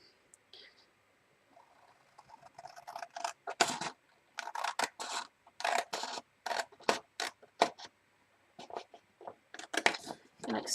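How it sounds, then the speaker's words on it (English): Paper is snipped with scissors from a corner up to a score line, then straight up, during a papercraft project making a 6x6 inch storage box; a run of short, close crisp cuts, sparse at first and then coming quickly. "You cut from corner up to your first score line, and then you cut straight up."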